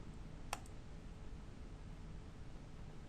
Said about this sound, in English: I will go ahead and left click again to drop off